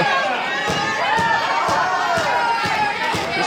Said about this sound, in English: This crowd getting behind System Elite right now.